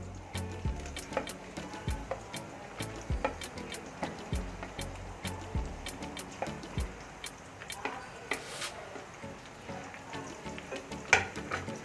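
Tomatoes fry in a pan for a potato and capsicum curry, a soft, steady sizzle with small crackles and faint ticking utensil sounds running throughout, quiet and close, with no voice present.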